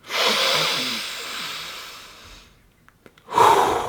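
Deep breathing: a long, loud hissing inhale or exhale, a brief pause, then another strong breath begins, close to the microphone with no speech.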